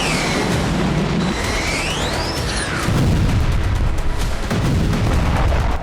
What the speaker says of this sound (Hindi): इसके अलावा तेरहारफा और कफ्र किला इलाके में जबरदस्त बमबारी की गई।